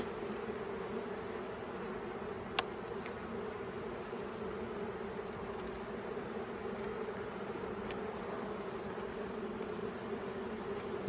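Honey bees hum around an opened hive in a continuous, even drone that holds close and steady throughout, broken only by a single sharp tick partway through.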